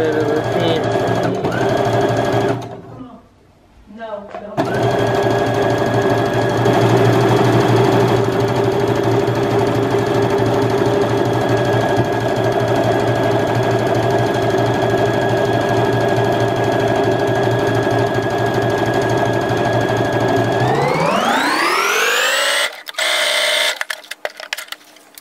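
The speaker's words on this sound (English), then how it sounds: "at this point, I'm just sewing the last side of the pants" A sewing machine runs continuously and loudly while stitching the last side of a pair of pants, with one brief pause early on and a rising whine as it winds down near the end.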